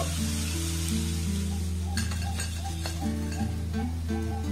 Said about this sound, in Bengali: এই একইভাবে সমস্ত চালগুলোকে কিন্তু আমি খুব সুন্দর করে প্রথমে ভেজে নেব